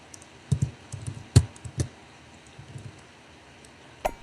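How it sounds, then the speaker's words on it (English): Sparse keystrokes on a computer keyboard, a handful of sharp close clicks with irregular gaps and one louder stroke near the end, over quiet room noise. "The typing's kind of loud again."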